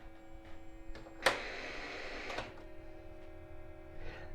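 A steady electronic hum with several tonal lines drones on quietly from a ColecoVision console's sound chip, interrupted by a brief crackling burst and a soft rustling noise.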